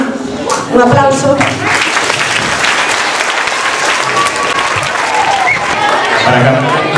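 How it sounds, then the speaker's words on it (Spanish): At a school award ceremony for the MeteoEScolas prize, a speaker's voice gives way to loud, sustained audience applause, with a voice returning briefly near the end. "Un aplauso."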